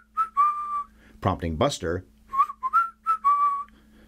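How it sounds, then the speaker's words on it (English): Someone whistles a tune in several short, clear phrases, with a brief burst of speech breaking in partway through. "Sorry about that whistling, by the way."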